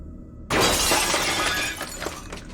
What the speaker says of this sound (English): Broken glass stepping on tile.